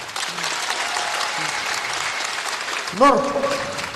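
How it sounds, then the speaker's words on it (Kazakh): Steady applause from a KVN comedy competition audience fills the whole stretch at an even level, with a brief tonal whoop or cheer rising near the end. "Шапалақ ұрайық, достар"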